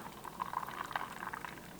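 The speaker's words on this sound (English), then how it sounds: "I'll fill this up with water and finish filling that up" Water runs into a drink bottle being topped up, a steady soft gurgling fill with small bubbling bursts, fairly quiet and close, with no talking.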